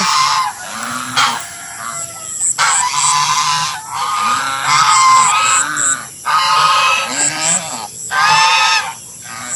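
Several geese honk repeatedly in loud, overlapping bursts, close by, with brief pauses between calls and no talking.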